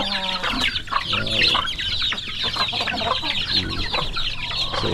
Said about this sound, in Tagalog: kawawa yung mga manok natin pag walang kain